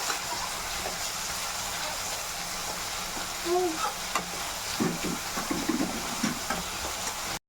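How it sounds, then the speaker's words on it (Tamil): Chopped onions fry in about three tablespoons of oil in a pan for a prawn thokku, giving a steady close sizzle broken by several scraping, clattering stirs of a spatula in the later seconds. "பாருங்க நல்லா வெங்காயம் கண்ணாடி பதம் வதங்கிடுச்சு"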